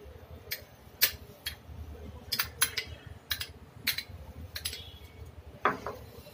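Light clinking and tapping of a utensil against a plate as tutti frutti is mixed into flour, with scattered sharp ticks and scrapes at an irregular rhythm, close and fairly quiet.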